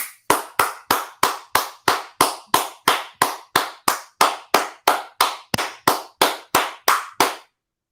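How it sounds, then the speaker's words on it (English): A regular run of about twenty evenly spaced claps, each sharp and loud with a short ringing decay, close up and with no talk. The rhythm is almost mechanical. "Clap it up."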